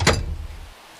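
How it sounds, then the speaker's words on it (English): A door is pushed open as a sound effect, a sharp close thud at the start followed by a short fading creak and rumble. "Push the door open."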